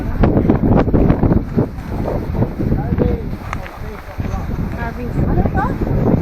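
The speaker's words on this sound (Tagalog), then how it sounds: "Mahangin" Wind gusts across a campsite in Door County, rushing steadily against the microphone with a low rumble while people talk over it.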